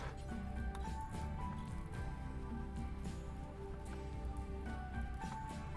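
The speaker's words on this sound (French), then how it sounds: "Allez, bon, heureusement il se met à pleuvoir." Steady rain falls in the video game RimWorld, a soft continuous patter that runs evenly throughout under tonal game music, with no talking.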